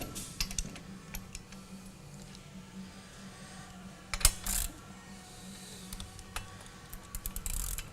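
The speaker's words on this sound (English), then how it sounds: "We'll take our crescent wrench and our 24mm socket." A socket wrench ratchets in short clicking runs while bolts are tightened on a Luna Fat Trike, the quiet mechanical clicks coming close and intermittent, with a couple of louder metallic clanks, and no one talking.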